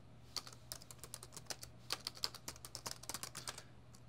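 Rapid, irregular clicking of keys on a computer keyboard as someone types code, close and clear with no talking over it.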